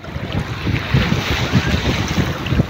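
Rough surf churning and washing continuously at a beach in Lingayen, Pangasinan, with strong wind buffeting the microphone throughout.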